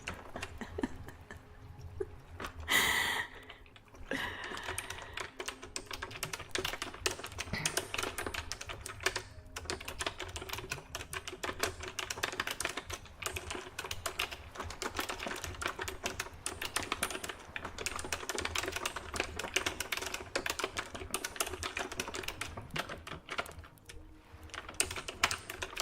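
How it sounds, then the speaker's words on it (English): Steady typing on a computer keyboard, close and quiet, with rapid irregular key clicks running continuously for about twenty-five seconds and no talking. "That's a little bit of keyboard typing."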